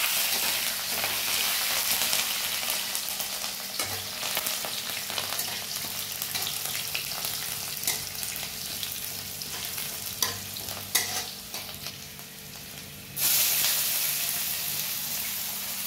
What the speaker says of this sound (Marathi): मिरच्यानंतर आपण कांदा चांगल्यापैकी परतून घ्यायचा आहे आपल्याला प्रॉपर